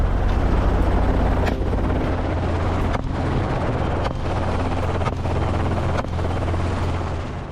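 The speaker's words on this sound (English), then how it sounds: "However, helicopters consume a lot of fuel" Helicopter flying during an aerial boar hunt, its rotor roar loud, steady and close throughout with strong low-end thrum and faint periodic thumps.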